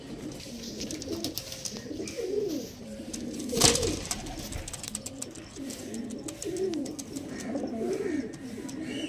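Pigeons coo repeatedly in soft, rolling phrases, several birds layered close by, with a brief sharper burst of noise partway through.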